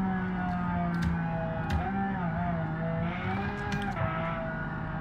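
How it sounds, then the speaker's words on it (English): Lamborghini Aventador SVJ V12 engine revving in BeamNG.Drive, a steady loud drone whose pitch rises and falls gently as the throttle is worked, continuous with no speech over it. "listen to that V12, bro."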